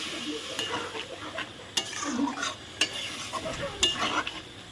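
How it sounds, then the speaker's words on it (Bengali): Meat and spices, colored by tomato, stir-fried in a pan with a little water: steady sizzling under repeated scraping stirs, with sharp spatula clicks against the pan at irregular intervals, close and moderately loud. "এইটুকু জল দিয়ে একটু কষিয়ে নেব"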